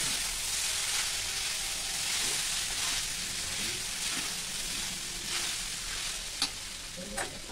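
Poha frying in a kadhai is stirred, giving a continuous loud sizzle with repeated scraping strokes of the spoon and a few sharp clinks against the pan.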